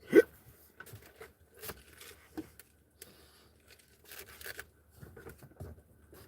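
A person hiccups several times in a quiet room, short sharp catches scattered irregularly across the stretch, close and fairly faint, with small rustling noises between them.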